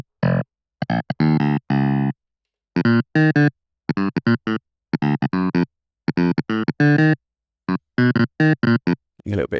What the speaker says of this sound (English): So I've put it through my favorite plugin on the MPC, Air Tube Drive.